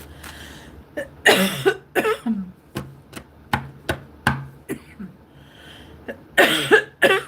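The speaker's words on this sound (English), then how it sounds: "I'll cough it all out and I'll continue." Several sharp coughs in a row, close and loud, with short pauses between bursts and a couple of longer hacking fits.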